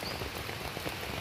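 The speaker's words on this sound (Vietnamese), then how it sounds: "mưa bạn, mưa lớn lắm" Heavy rain pours in a forest as a dense, even hiss of drops on surfaces, constant and enveloping with no voices.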